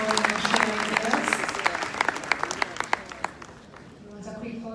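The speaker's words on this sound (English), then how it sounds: "Can we give her a round of applause?" Conference audience giving a round of applause, steady clapping with sharp individual claps standing out, tapering off as voices carry on beneath.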